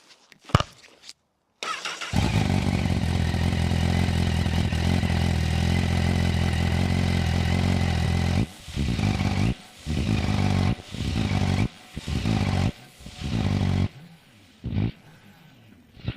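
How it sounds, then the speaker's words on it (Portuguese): A Honda CB 1000 Hornet motorcycle engine cranks and starts, idles steadily for several seconds, then is revved in a series of sharp, loud blips with brief drops between them, heard up close. "eu suponho que você quer ouvir este motor"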